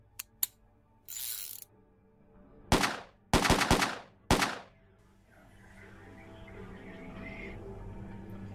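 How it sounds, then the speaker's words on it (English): A sheriff's revolver in a zombie board game soundboard app: a few sharp metallic clicks, a brief rattle, then a run of quick ratcheting clacks as bullets load and the cylinder spins, ending in a faint trailing whir. "when Sheriff Anderson, a real man of action, adds his revolver, he first loads the bullets and then spins the chamber"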